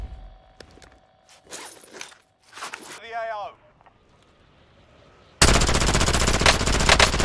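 Bursts of automatic gunfire and scattered shots in the Call of Duty: Warzone battle royale game, mixed with rustling movement, a short whooshing sweep, then a sudden loud sustained roar of firing at the end.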